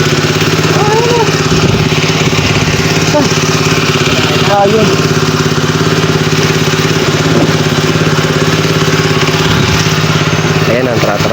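Motorcycle engine idling steadily nearby, a constant low mechanical chug running the whole time while people talk over it.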